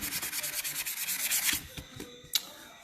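Steady rhythmic rubbing of a sandpaper-like abrasive over a surface in stone carving work, close and regular back-and-forth strokes that slow and give way to a few scattered scrapes and a sharp tap.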